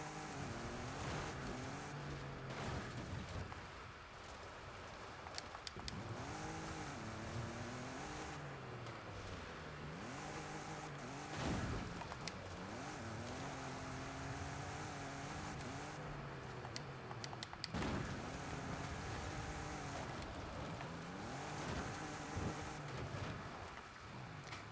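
A Toyota 4Runner TRD Pro engine revving and droning in Forza Horizon 5 as it tumbles off a mountain, with rising and falling engine pitch, wind noise, and sharp crashing impacts near twelve and eighteen seconds.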